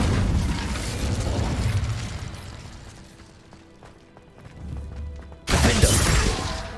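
The Incendio fire spell from the Hogwarts Legacy video game: a rumbling, crackling rush of flame that fades into softer mechanical rattles, then a sudden loud burst near the end.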